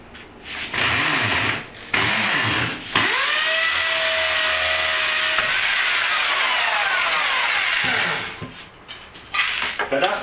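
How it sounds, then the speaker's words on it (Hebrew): A hammer drill bores a hole into a wall for mounting a hidden-bracket IKEA shelf: a loud, high, grinding whine runs steadily for several seconds between short bursts, then stops, with brief talk around it. "קדחנו חור."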